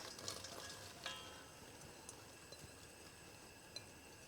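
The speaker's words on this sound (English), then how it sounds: "we're going to saute our leeks and our onion" Leeks and onion sauteing in butter and olive oil in a Dutch oven over medium heat, giving a faint steady sizzle with a few soft clinks of a utensil against the pot.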